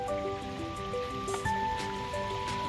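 A small flowing creek of a pondless backyard waterfall in Lansdowne trickles softly and steadily, with faint sustained melodic tones layered over the gentle water.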